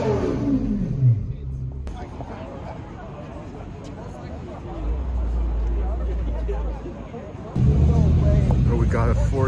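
A Lamborghini Aventador engine revs close by in bursts, with quieter gaps between them and a loud final roar, as people talk nearby.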